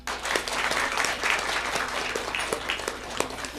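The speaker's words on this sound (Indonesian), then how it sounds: "Tepuk tangan" A studio audience at a religious culture program applauds after a Banjari group's performance, a dense, sustained burst of clapping with individual sharp claps standing out and a low steady hum underneath.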